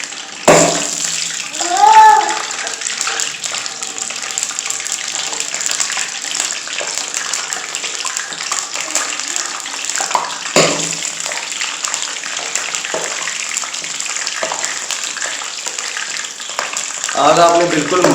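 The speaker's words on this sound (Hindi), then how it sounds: "अब हम इसमें ब्रेड के पीसेस डालेंगे और इसको फ्राई करेंगे।" Bread pieces dropped into hot oil for shahi tukda, a loud continuous sizzle and crackle of frying with bubbling bursts, near and steady, with a brief voice and a clatter partway through.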